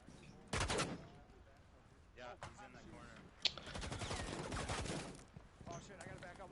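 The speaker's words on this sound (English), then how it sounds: "Rogues firing on the enemy, but not getting any downs on limbs" Gunfire crackles in quick bursts during a competitive Rainbow Six Siege match. The shots are fairly distant and sit under a commentator's ongoing talk.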